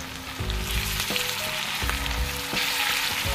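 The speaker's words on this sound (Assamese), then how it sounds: "একদম ৰঙচুৱা হোৱালৈকে পিঁয়াজখিনি ভাজি লওঁ" Onions fry in hot oil with bay leaves, green chilies and salt, a loud close steady sizzle with repeated scraping strokes of a spatula stirring the pan, with no voices.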